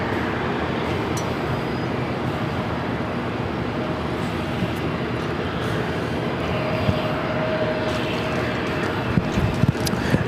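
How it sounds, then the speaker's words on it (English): A British Airways airliner arrives at LAX from London Heathrow. A continuous engine rumble holds steady over busy airport background noise, with a few small clicks and knocks toward the end. "This is British Airways 283 coming in from London Heathrow"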